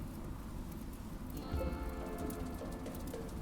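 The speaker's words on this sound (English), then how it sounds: "This rain could be a little bit harder. A rainy thunderstorm." Steady rain in the video game RimWorld, a soft continuous patter on surfaces that holds evenly throughout, with no voices.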